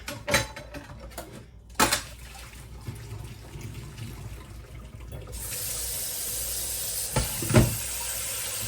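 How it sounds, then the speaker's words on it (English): Cold tap water runs from a kitchen faucet onto a hot pan that held cooked eggs, a steady splashing stream with a few clanks and knocks, the flow growing brighter and fuller partway through. "I'm going to put this over here so I can run some cold water on it."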